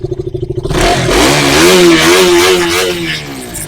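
A 2019 KTM Duke motorcycle engine fires up close by: a quick rhythmic cranking, then a loud, rising rev that wavers and holds, alone with no talk.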